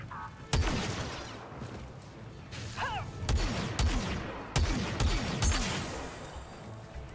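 Blaster fire in a Star Wars video game crackles in sharp repeated bursts over a noisy battle backdrop, several loud shots spaced a few seconds apart with whining effects in between.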